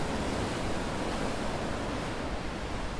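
Waves wash up a sandy Sardinian beach with a continuous broadband roar of surf, loud and close, with no let-up and no voices.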